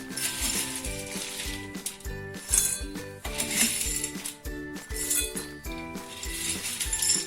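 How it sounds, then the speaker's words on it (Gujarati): Dried amla (Indian gooseberry) pieces tipped into a steel grinder jar for homemade triphala churna, a scattered run of hard clinks and rattles, fairly close and light. "હવે આપણે આમળા નાખી દઈશું"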